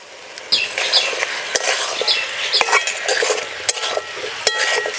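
Pumpkin and carrot pieces cooking in a pan, stirred with a utensil: steady soft frying hiss under irregular scraping and clinking strokes, close and moderately loud, no talking.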